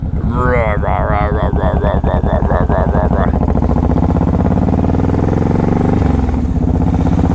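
A Honda VTX 1800 motorcycle under way, its throaty engine loud and close, swelling through several rising revs before settling into a steady, deep drone.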